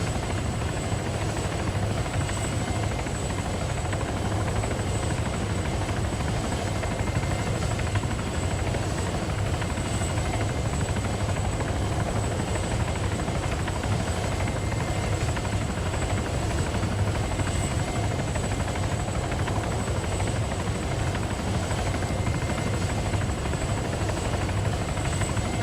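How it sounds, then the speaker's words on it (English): A helicopter flies in the video game Altis Life, its rotor drone a steady, continuous chop heard at moderate distance for the whole stretch, with no talk over it. "Chopper there."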